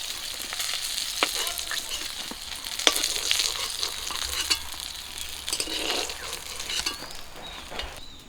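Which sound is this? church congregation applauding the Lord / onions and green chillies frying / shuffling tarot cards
onions and green chillies frying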